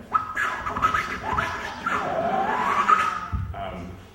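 A voice imitates record scratching with sharp, squeaky pitch sweeps made by inhaling on a hand, a few quick strokes in a row, close and fairly loud.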